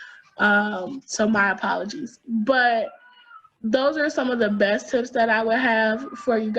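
A cat cries and meows in the background of a room while a person keeps talking in the foreground, the calls partly masked by the speech.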